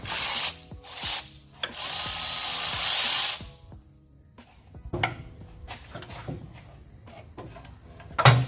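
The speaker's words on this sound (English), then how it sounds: "I'm gonna ratchet strap it down to this jack tight before I pull it out" A ratchet strap is cranked tight, securing a 6-speed manual transmission from a 2000 Ford F-550 to a jack, with bursts of rapid clicking ratcheting followed by scattered metallic clunks, close and loud, with no talking.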